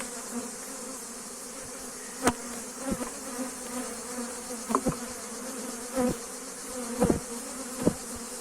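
Honey bees buzz steadily in a dense drone at an open hive, with occasional individual insects zipping close by in brief louder passes.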